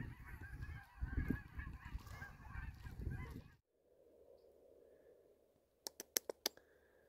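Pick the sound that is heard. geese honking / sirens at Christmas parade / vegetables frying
geese honking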